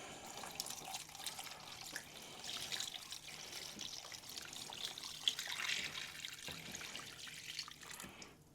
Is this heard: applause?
no